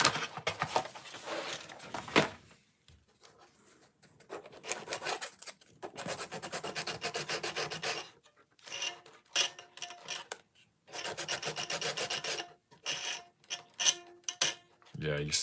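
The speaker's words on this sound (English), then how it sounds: "let me get out the sandpaper" Sandpaper rubbing against laser-cut plywood parts of a Ugears hurdy gurdy kit, heard as close, irregular scratchy strokes in bursts separated by brief pauses and handling clatter.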